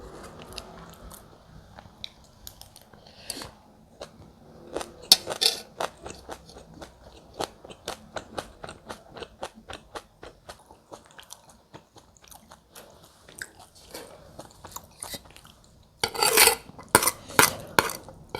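Fresh cucumber is bitten and chewed close up, giving repeated crisp, wet crunches in an irregular rhythm with a louder burst of crunching near the end, with no voices.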